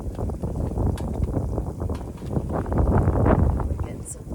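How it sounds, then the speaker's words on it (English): Steady gusts of wind rumble across a forest campsite in Lincoln National Forest, a close, blustery roar that swells and ebbs, with a voice speaking over it. "We're getting some gushes of wind"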